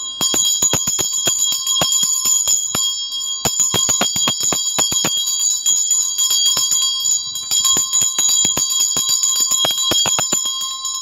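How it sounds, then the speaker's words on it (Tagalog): A Tibetan bell rung repeatedly in bursts, each strike leaving a bright, shimmering metallic ring that sustains and overlaps, loud and close with no talking. "i-ring ko lang itong aking Tibetan Bell"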